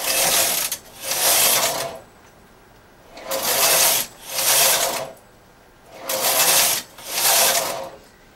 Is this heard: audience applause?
no